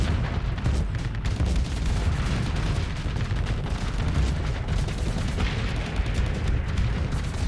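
Starship broadsides fire in a Starsector space battle, a dense, continuous barrage of booming weapon blasts and rumbling explosions layered over each other, loud and unbroken throughout.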